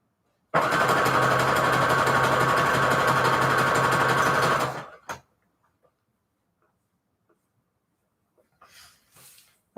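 Sewing machine stitching Christmas fabric, a loud steady whirring run of rapid stitches for about four seconds that stops abruptly, followed by faint clicks and a brief soft rustle.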